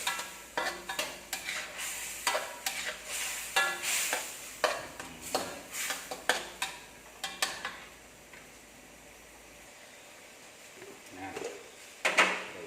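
Squid and basil stir-frying in a pan, with a spatula scraping and clacking in uneven strokes over a soft sizzle, close and fairly quiet, with a pause before a few more stirs.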